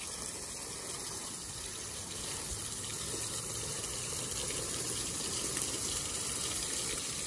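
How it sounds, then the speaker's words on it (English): Water is poured steadily over Columbia Bugaboot III winter boots, making a continuous close splashing gush that holds for the whole stretch. "let's do a water test"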